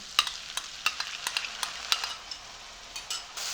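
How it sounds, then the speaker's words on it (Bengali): Chilli powder, biryani masala and whisked curd fry in a pan over a medium flame, with a soft sizzle under repeated sharp clicks and scrapes of a spoon stirring, irregular and close; no one talks. "মশলা কষানোর সময় অবশ্যই মিডিয়াম ফ্লেমে রেখে মশলা করতে হবে"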